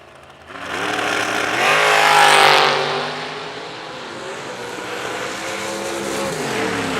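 Wheels dragsters at a drag strip roar loudly as they launch, engine note climbing and surging close by, then settling into a sustained drone as they run down the track.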